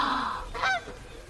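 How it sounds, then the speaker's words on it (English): Geese honk in a brief, close burst of nasal calls that rises to a peak and fades, with no talking. "Geese. The power of geese."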